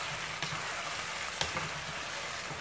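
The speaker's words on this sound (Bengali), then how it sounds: "পেঁয়াজ কুচিটা দিয়ে একটু ভালোভাবে নেড়ে" Chopped onions, about a cup, frying and being stirred in a pan give a steady close sizzle with a couple of brief scrape accents, no talking.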